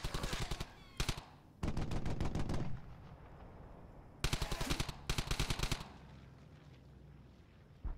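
Automatic gunfire from the Brothers in Arms: Hell's Highway video game, with several loud rapid bursts separated by quieter pauses and no talk over it.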